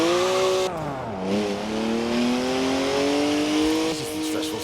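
A BMW with a 3-litre twin-turbo straight six rated at 335 horsepower drifts, its engine note holding loud and steady with a shifting pitch, and tire squeal mixes into the strained howl throughout.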